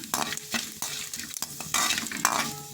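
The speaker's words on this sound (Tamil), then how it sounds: "பட்டை எல்லாம் நல்லா எண்ணெயில் வதங்கட்டுங்க." Cinnamon frying and sizzling in hot oil in a pan while a spoon stirs and scrapes it, close and fairly loud, with repeated clinks over a steady hiss for a chilli chicken gravy.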